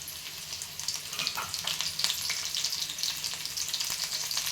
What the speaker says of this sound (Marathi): तेल आता गरम झालेलं आहे. आता आपण त्याच्यात लसूण टाकून घेऊ.